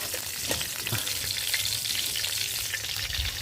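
Cauliflower lightly frying in a pan, a steady close sizzle and crackle of oil that runs unbroken with faint stirring scrapes and no voices.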